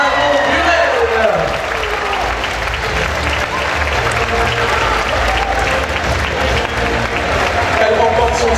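Loud, sustained audience applause fills an outdoor Miss Oise 2015 pageant results announcement at Parc Saint Paul as the first runner-up is named, dense clapping throughout with crowd murmur and a voice briefly audible.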